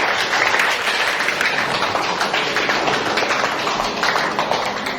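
A class of school students applauding in a classroom, loud continuous clapping from many hands, close and dense throughout.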